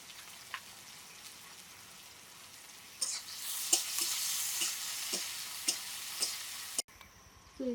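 Onion and garlic go into hot oil with dried chilli, bay leaf, cinnamon, cardamom and cumin seeds, and a loud crackling sizzle breaks out partway through, with occasional utensil taps against the pan.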